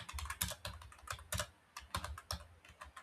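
Typing on a computer keyboard while entering a short message, a run of quick, irregular key clicks with brief pauses, close and clear with no talking.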